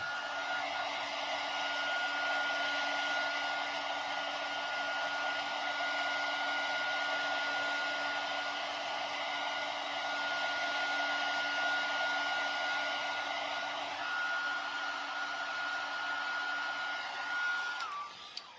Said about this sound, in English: You might want to use a heat gun just to let it dry a little bit